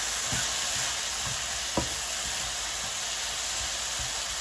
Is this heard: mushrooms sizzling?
yes